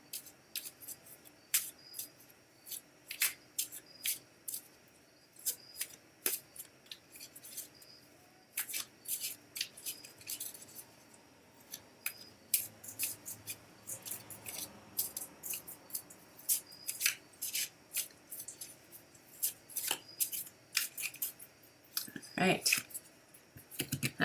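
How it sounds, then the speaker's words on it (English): A deck of cards is shuffled over and over in irregular crisp riffling bursts, close and fairly quiet, with people talking at times in the background. "Tell me when to stop shuffling."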